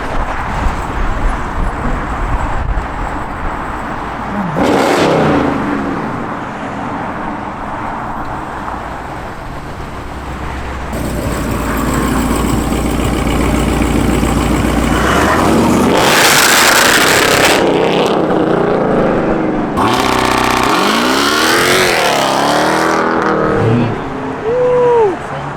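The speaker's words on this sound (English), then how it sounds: "Logan, that rev from the Rivian, crazy." Loud engine revving at a crowded New Year's Day car meet with over a hundred cars, including a Rivian, with bursts of rising and falling engine roar over steady crowd noise and talk.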